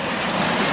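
A steady, broad rush of falling water, dense and continuous, with no other sounds.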